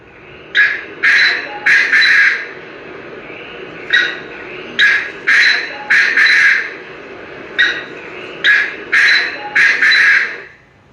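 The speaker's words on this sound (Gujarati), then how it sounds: "તલિયો તેતર." Painted partridge calling in a series of loud, harsh, grating phrases, each a quick run of three or four rasping notes, repeating in close bursts with short pauses between, near and alone.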